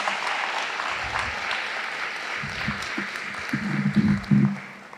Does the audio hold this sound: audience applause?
yes